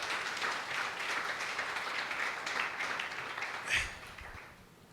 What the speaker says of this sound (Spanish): Dale un aplauso al Señor si usted quiere ser de esos.